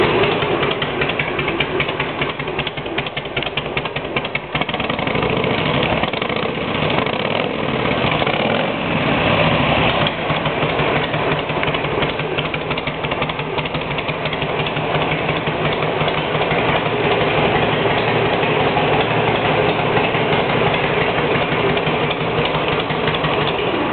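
Motorcycle engine idling steadily with aftermarket Badass exhaust tips, muffler baffles removable, giving a close, continuous rapid chugging note with brief clattering knocks midway.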